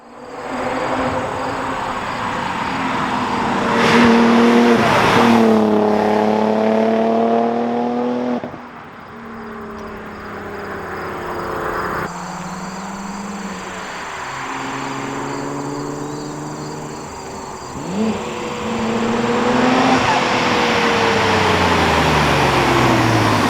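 A modified Audi B5 S4 with 1000cc Bosch injectors and an RS4 clutch drives and accelerates repeatedly, its engine note climbing through gears in several rising sweeps, close and loud, with shifts and brief lifts between pulls.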